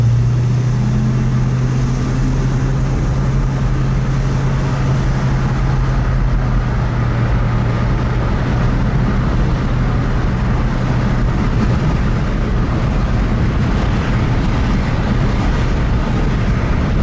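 Riding as a passenger in a black 1963 Buick Electra 225 four-door hardtop with the vent windows open: a loud, steady engine and road drone with low rumble and wind hiss fills the cabin throughout, and no one speaks.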